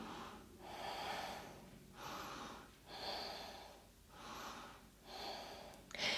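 Slow, steady breathing while holding a yoga pose, about three full inhale-exhale cycles in a quiet room, each breath a soft rushing airflow close to the listener, with no talking.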